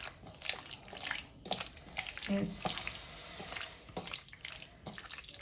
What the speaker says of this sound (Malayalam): കുറച്ചുകൂടി വെള്ളം ഒഴിച്ചിട്ട് നമ്മൾ മിക്സ് ചെയ്തെടുക്കാം